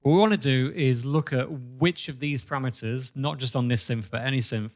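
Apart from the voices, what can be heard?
No everyday noise stands out behind the speech.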